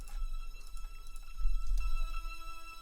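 Raw string sample played dry with effects removed: a quiet, thin, slightly harsh sustained string tone over a low rumbling undertone, with no voices.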